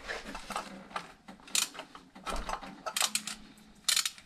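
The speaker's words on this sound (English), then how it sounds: "now we're doing the final tightening of our bolts and nuts" A hand ratchet tightens the intake manifold bolts and nuts on a Honda Accord 2.2 diesel N22 engine, giving soft, close clicking strokes in short irregular bursts with quiet gaps.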